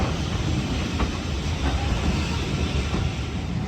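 A train passes in the Train Sim World game: a steady, loud rumble of rolling stock with low-frequency roar and faint rail clicks, continuous throughout without voices.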